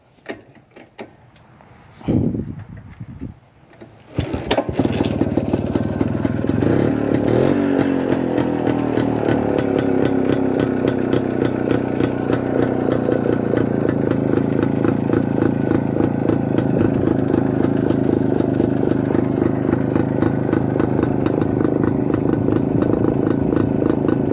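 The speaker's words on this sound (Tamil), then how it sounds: "ஜஸ்ட் சோக் லிவரை போட்டு நம்ம ஸ்டார்ட் பண்ணிக்கலாம்" A vintage Yezdi motorcycle fitted with a Bullet carburetor and a restored engine is kicked over on choke, catching after a few tries, then settling into a loud, steady, close idle that continues for the rest of the clip.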